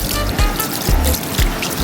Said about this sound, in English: Because natural spring water flows continually here, there isn't even a sink with a faucet.